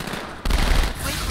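A sniper rifle fires in the Halo 2 video game, a loud, close blast that bursts in abruptly and fills the rest of the short moment with heavy, noisy gunfire.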